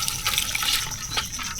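Water poured into a cooking pot of crabs, a continuous splashing gush with a slight surge near the end.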